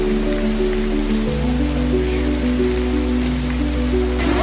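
The Weeping Rock waterfall in Zion National Park splashes in a loud, unbroken rushing hiss that stays steady throughout, with a low tonal hum underneath.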